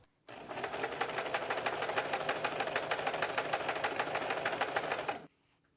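A sewing machine stitches quarter-inch seams down both sides of paired light and dark quilt strips, running as a fast, even mechanical chatter for about five seconds before stopping, with no talking.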